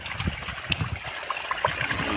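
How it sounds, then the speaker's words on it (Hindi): Water from a motor pump runs into a farm field, a steady close trickling and splashing stream with small gurgles, no talking. "हाँ तो पानी तो आ रहा है अभी, ठीक से आ रहा है सही"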